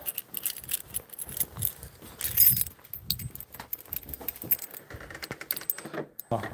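Set of house keys jangling and clinking in a hand, irregular bursts of metallic rattling close by, fairly loud and continuous over several seconds, with no talking.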